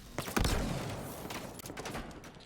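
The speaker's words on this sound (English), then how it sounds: "Just barely missing out on that shot with the shock rifle cross map" Shock rifle shots in the Unreal Tournament video game, a few sharp energy blasts and cracks over constant game noise at a moderate level.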